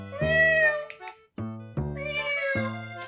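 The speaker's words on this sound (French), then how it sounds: "C'est le chat." A cat meows loudly and close by in a series of long, drawn-out, wavering cries separated by brief breaks.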